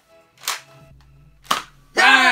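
Two short sharp pops from a modified Nerf gun being fired, spaced about a second apart, followed by a person shouting loudly.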